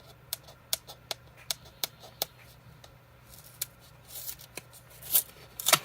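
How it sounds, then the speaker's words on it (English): Short, crisp clicks and light handling sounds on a new TWSBI Diamond 580 AL fountain pen, ending in a few brief, louder scratchy rips as a sticker is pulled off up close. "Let's see if I can just pull the sticker off."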